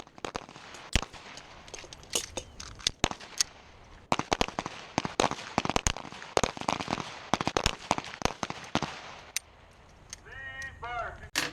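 Rapid pistol gunshots fired outdoors, sharp cracks coming in quick uneven strings across the stretch with brief pauses, a voice speaking near the end.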